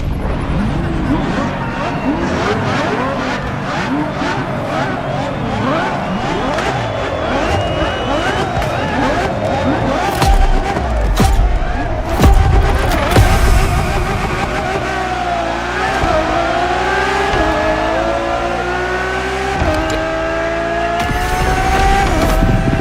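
A Ferrari Enzo races in The Crew Motorfest, its engine revving up and down through gear changes with tire squeals and skids, loud and continuous under a speaking voice.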